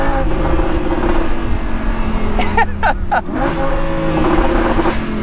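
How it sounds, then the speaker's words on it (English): A Lamborghini Huracan engine burbles and revs loudly, with sharp popping crackles from the exhaust bursting out midway on overrun as the revs fall. "Another one of my favorite parts about this car is the exhaust. The crackles on overrun are incredible."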